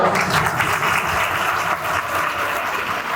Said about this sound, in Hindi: इनके लिए जोरदार ताली हो जाओ।